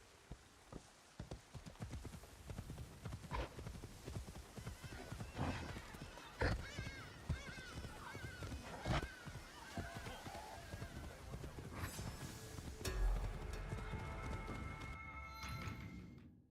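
Video game horse hooves gallop in a fast, steady clip-clop that runs almost the whole time at moderate volume, with a few sharper knocks along the way.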